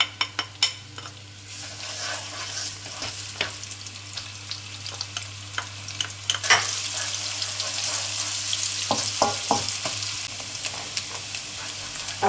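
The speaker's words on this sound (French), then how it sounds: "on va mettre revenir gentiment l'oignon et l'ail" Onion and garlic fry gently in a pan with a steady, close sizzle, while stirring and utensil clatter break through in sharp clicks and scrapes; no one talks.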